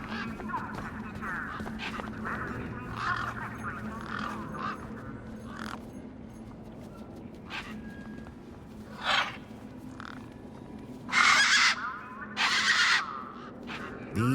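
Desert birds in the video game Beyond a Steel Sky give harsh, croaking, squawking calls in scattered bursts, louder toward the end, over a low background hum.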